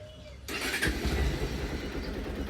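A motorcycle's electric self-start cranks the engine, which fires quickly and settles into a loud, steady running rumble close by, with no talk over it.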